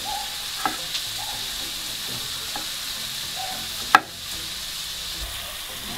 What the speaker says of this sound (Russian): жарим кабачок с луком примерно около 2-3 минут